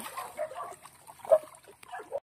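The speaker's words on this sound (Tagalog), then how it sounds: "Ang ingay naman ng aso." A dog yips and whimpers in short, uneven bursts, fairly close, with a brief splash of water near the end.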